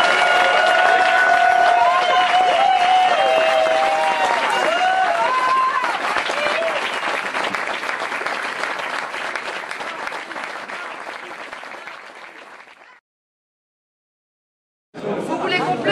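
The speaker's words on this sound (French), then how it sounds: "Je vais vous demander d'applaudir très très fort Marie" Loud, thick applause from a community gathering in Bessières for Marie, with voices and cheers mixed in early on; the clapping thins gradually and stops into a brief silence, then bursts back in at full strength.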